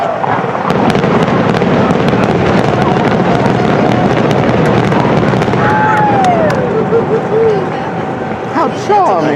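Finale of a Disney fireworks show seen from a distant inn, a dense continuous rumble of bursts and crackles with whistling rising tones near the end, under steady crowd chatter.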